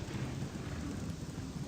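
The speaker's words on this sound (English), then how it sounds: "raining and thunderstorming." Rain and a thunderstorm in the video game Morrowind: a low, steady rumble with a constant hiss of rainfall, fairly faint and unbroken, with no voices.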